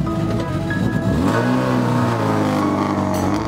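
A rallycross car accelerates out of the service area at a World Rallycross event in Canada, its engine revving loud and close and climbing in pitch as it pulls away.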